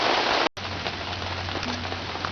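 Rain falling outside, a steady broadband hiss of drops on surfaces with a brief cut near the start, heard alone without talk, likely near a workshop where a small engine with a JB Weld piston is being tested.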